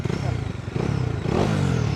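A CFMoto 450SR motorcycle engine idles with a close, throbbing rumble, then is revved so the note rises and thickens partway through, heard alone without speech.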